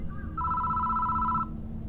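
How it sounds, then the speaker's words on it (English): A telephone rings in the horror video game Death Mark, one steady electronic ring lasting about a second, then stopping, over a low ambient hum. "The phone starts ringing out of nowhere."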